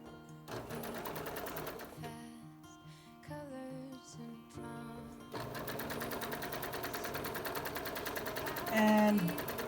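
A sewing machine hemming the edge of a fabric piece for a face mask, a steady continuous mechanical whir with a brief pause and a short burst of higher rattling near the end.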